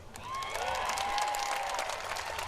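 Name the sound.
crowd applauding at a political rally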